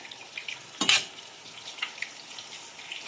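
Meat fries in a pan with a constant crackling sizzle while a utensil stirs it, including one sharp scrape or clink against the pan near the start.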